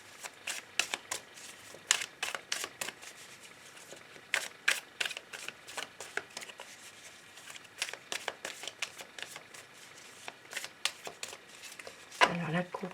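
Tarot cards being shuffled and cut by hand, close and crisp: repeated quick riffling bursts and papery slaps in an irregular rhythm, ending with a louder cut near the finish.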